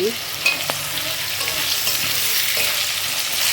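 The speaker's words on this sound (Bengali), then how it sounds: "এখানে আলুগুলোকে একটু সুন্দর করে ভেজে নিচ্ছি" Potatoes frying in a pan with chillies in hot oil: a steady, close sizzle runs throughout, with faint clinks and scrapes of stirring. No voices.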